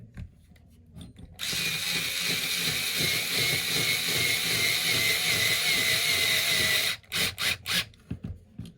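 A power driver tightens bolts on a YD-2 drift car build, a steady high whirring run for about five seconds, then a few short, quick bursts as the bolts are snugged, close and alone.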